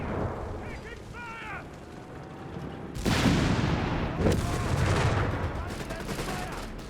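Submachine gun fire from German assault grenadiers' MP40s in a Company of Heroes 3 battle: after a quiet stretch with a faint voice, loud, dense bursts of gunfire and battle noise erupt and continue steadily to the end.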